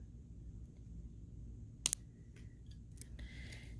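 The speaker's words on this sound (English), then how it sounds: "Cut this excess off. Be careful and cut the right wire." Jewelry wire is snipped with cutters in a quick, sharp double click against near silence, followed by faint light handling clicks.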